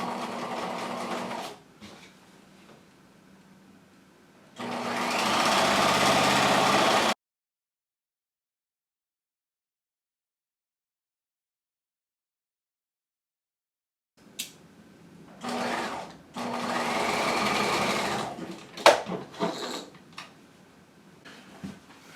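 A sewing machine runs two bursts stitching a half-inch seam across a jacket hem facing, with back tacks at the start and end, separated by a long silent pause and a few small handling clicks.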